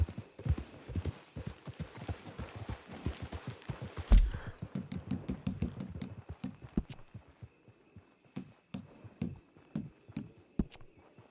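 Steady clip-clopping of horse hooves in a PS4 video game, fairly close and rhythmic, continuing throughout with a brief louder thump partway through.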